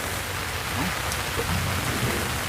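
Heavy rain pours down in a steady, dense hiss with no break, and a faint low rumble stirs beneath the downpour.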